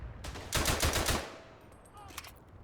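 A rapid burst of about eight machine gun shots in the Verdun video game, loud and close in quick even rhythm, followed by fainter distant shots and a mechanical whine.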